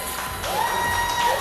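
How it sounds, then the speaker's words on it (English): A small audience claps and cheers with scattered whoops, a steady burst of applause that swells slightly midway, close and fairly loud in a room. "Can we get a clap?"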